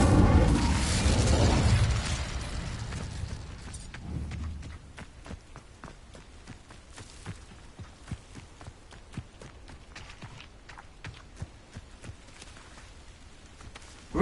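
A fire spell cast in a Hogwarts wizarding video game, a loud whooshing burst at the start that fades within a few seconds, followed by quieter scattered clicks and footstep-like taps.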